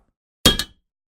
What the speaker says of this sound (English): metal bar,